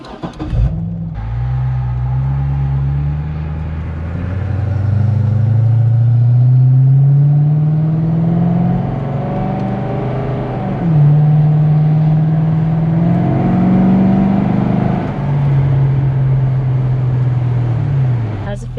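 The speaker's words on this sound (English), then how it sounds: "we should be on the loud exhaust already" A Chevrolet Corvette C6 with its exhaust fuse pulled roars loudly as it accelerates, the engine note climbing through several gear pulls over a steady road roar, with voices talking over parts of it.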